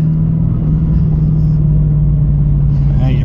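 A 1996 C4 Corvette engine drones loud and steady close by at the moment of a manual shift into second gear, with a deep rumble holding throughout.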